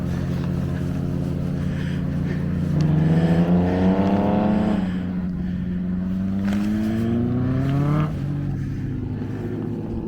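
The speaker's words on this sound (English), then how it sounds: "all the cars going through" Cars drive through Winnats Pass, a steep road through the hills, heard from a hillside camp; engines rise and fall in pitch as vehicles climb and pass, with one louder car passing in the middle and a steady rumble throughout.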